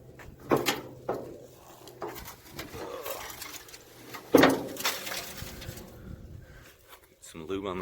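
Creaking, squeaking door hinges on a 1970 Chevy C10 pickup truck left sitting for 25 years, heard in a few scattered bursts with knocks and rustling and a sharp squeal near the end.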